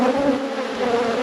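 Honeybees buzz loudly and continuously around an open, queenless red beehive, a dense close-up drone with no voices over it.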